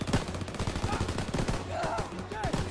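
Rapid gunfire in Call of Duty WW2, dense bursts of shots crackling at moderate distance over a low rumble, with brief voice-like calls mixed in.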